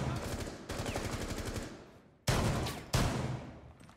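Rapid automatic rifle fire in Rainbow Six Siege crackles in loud sustained bursts, one long string followed by two shorter volleys, close and dominant with no talking.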